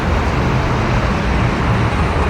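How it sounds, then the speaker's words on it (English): Busy street traffic with cars passing by, a loud, steady roadway roar filling the whole stretch without pause or voices. "on a busy street with cars passing by"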